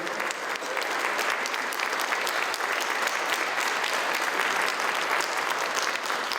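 An audience claps steadily and loudly at a talk on indigenous peoples in big cities, a dense, even wash of applause holding for several seconds with no voices over it.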